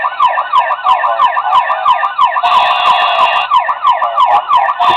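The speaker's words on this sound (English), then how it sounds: "What's a good fire vehicle without a federal siren? You gotta have the federal cues." A custom 1:24 scale Matchbox KME Ford F-450 pumper toy fire truck sounds a loud, close electronic yelp siren in rapid repeating sweeps, joined midway by a brief burst of radio chatter.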